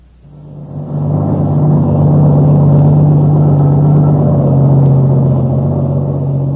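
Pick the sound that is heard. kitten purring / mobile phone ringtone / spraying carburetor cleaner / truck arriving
truck arriving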